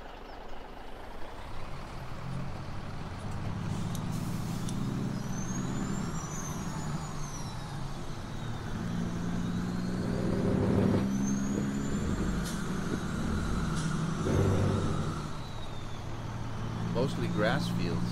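A truck in Farming Simulator 2017 drives with a steady low engine drone and occasional air-brake hisses and squeaks, while someone talks over it throughout.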